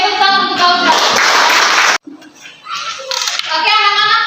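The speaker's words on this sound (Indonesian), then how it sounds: "tepuk untuk Audra" Children in a classroom burst into a loud round of clapping for a classmate, dense and close for about a second, then broken off and followed by scattered voices and a few more claps.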